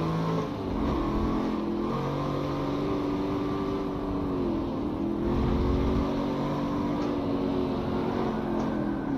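A Subaru WRX in Forza Motorsport 7 spins out mid-race, its engine droning steadily with a wavering, falling and rising pitch under a constant rushing noise, moderately loud throughout.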